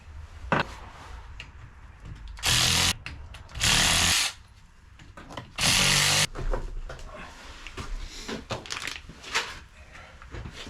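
A power driver whirs loudly in three sustained bursts, each lasting about a second, as screws are backed out of a Quicktime SFI bellhousing and Fabbot AR5-to-LS adapter during a 1963 Ford Falcon rebuild. Metallic clatter and handling noise fill the gaps between bursts.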